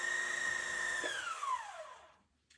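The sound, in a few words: sewing machine winding a bobbin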